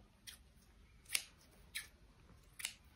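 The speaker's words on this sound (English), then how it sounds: "I'm going to have to cut some of these threads now." Scissors snip fabric threads during calico macrame work, four short crisp snips at uneven intervals, close and quiet against a soft background.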